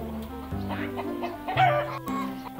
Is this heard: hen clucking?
yes